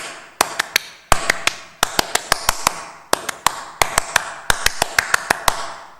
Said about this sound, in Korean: 이게 박수 치유라는 거예요